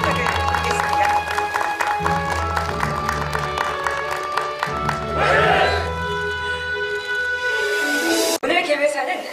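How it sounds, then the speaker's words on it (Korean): Audience applause at a regional express rail expansion forum in Korea, a sustained burst of clapping that swells around the middle and fades, with music playing underneath. "박수 한번 힘차게 부탁을 드리겠습니다."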